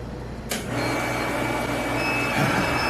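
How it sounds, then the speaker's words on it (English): A welder starts abruptly and runs as a steady buzzing hum with a faint high whine, close and continuous in a shop while cast iron lathe handles are repaired. "Turn on the welder, Steve."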